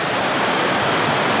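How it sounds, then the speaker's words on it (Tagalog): Small, very clear mountain river on a Philippine island running over red soil, heard as a steady, full rushing wash with no breaks, close and fairly loud, with no voices. "kung saan napansin po natin etong munting ilog"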